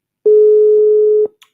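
A telephone busy signal sounds while calling a contest winner: one loud, steady single-pitch tone held for about a second, then cut off with a faint click.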